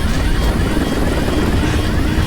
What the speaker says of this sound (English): Flying a helicopter from Mission Impossible Fallout